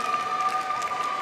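Audience applause at a university graduation ceremony, continuous clapping from a large seated crowd at an even, moderate level, without any voices over it.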